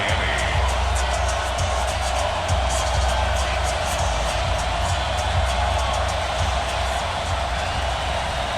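Home crowd at Hard Rock Stadium in Miami roars steadily throughout in Madden NFL 20, Patriots at Dolphins, a dense, unbroken wash of fired-up cheering with no distinct individual voices.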